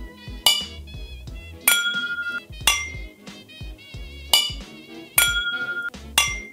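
Whiskey glasses struck against each other and against a bottle give about seven sharp, bright clinks, some in quick doubles, each ringing out briefly. They sound loud and close with no talking.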